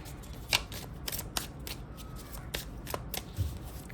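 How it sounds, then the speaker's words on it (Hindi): A deck of tarot cards is shuffled close by in quick riffling bursts, with soft papery flicks and slaps repeating every half second or so against a quiet background. "आइए शफल करते हैं।"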